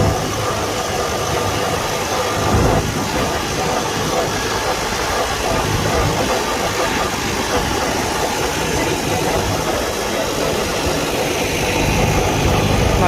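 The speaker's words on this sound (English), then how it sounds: "Believe it or not, the tractor actually gets up and goes pretty damn quick." 1949 Farmall Super A tractor engine running while driving, a steady loud chugging rumble throughout, close and continuous.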